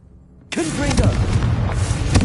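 A Confringo fire spell in the Hogwarts Legacy video game goes off as a sudden loud blast, then a sustained roaring, crackling burst that fills the rest of the moment, with a brief voice underneath.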